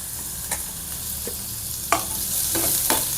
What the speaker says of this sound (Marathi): कांद्याला मीडियम भाजून घ्यायचा आहे आपल्याला